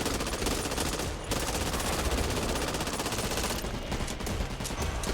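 A minigun fires in the zombie shooter game Back 4 Blood, a loud sustained roar of rapid rounds with a brief break near the start, dense and close.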